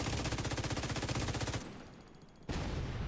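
A light machine gun fires in Division 2, a loud, steady rapid stream of rounds that stops briefly and then resumes, alone without talk.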